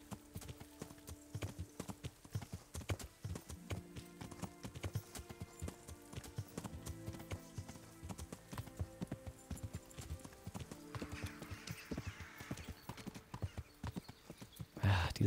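A horse's hooves clip-clop steadily at a walking pace while riding toward a marker through woods in Kingdom Come: Deliverance, a fairly quiet, regular rhythm that continues throughout, with occasional faint voice.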